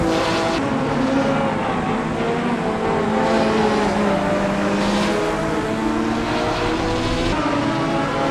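Race cars leaving the pits during a racing session, heard as a continuous engine drone with shifting tones swelling and fading, fairly loud and steady with no talk.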